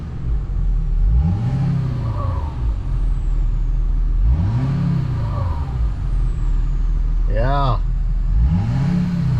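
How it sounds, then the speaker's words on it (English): A diesel truck engine with a turbo, whose CP4 fuel pump was just repaired, revs up in several rising and falling sweeps under a steady low rumble. A brief turbo whistle comes through, and a voice speaks once. "rev it up a little here"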